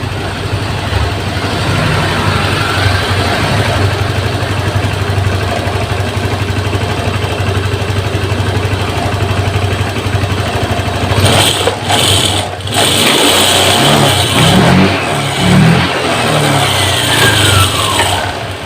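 A Honda Vario 150 scooter with a faulty TPS sensor that was fouling its spark plug runs loud and close, idling steadily before the engine note shifts with brief revs near the end.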